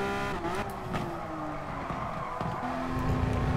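A race car in the GT Sport video game spins its wheels under power, with tires squealing in sustained, shifting tones over a steady engine drone, close and prominent, rising into a harsher scrub near the end.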